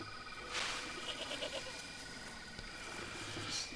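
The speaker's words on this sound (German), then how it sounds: "Boah, das war eine Ziege." A goat bleats faintly in the video game Far Cry 2, a short wavering call amid quiet in-game ambience and a few soft chirps.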